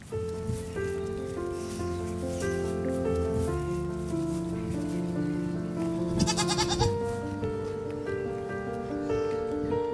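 A goat bleats repeatedly in a steady, wavering cry that carries across the whole stretch, fairly close and mixed with other tonal sounds, with no talking.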